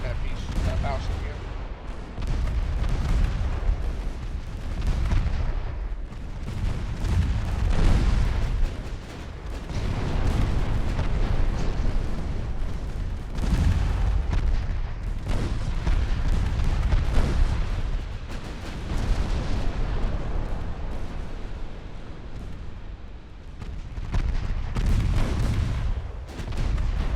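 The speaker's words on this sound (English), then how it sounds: "Those 13-inch guns are tearing your ships up, though." Naval 13-inch guns fire in the warship game Ultimate Admiral Dreadnoughts, with continuous heavy booming and rumbling salvos overlapping throughout, loud and dense with hardly any pause.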